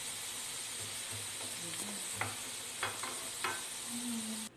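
Carrots being stir-fried in a pan for pork caldereta give a steady soft sizzle, broken by a few clinks and scrapes of stirring, heard fairly close with no talk.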